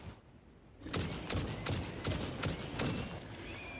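Weapon fire in the game Satisfactory: about seven heavy, dull shots land in a steady rhythm after a brief quiet start, loud and close.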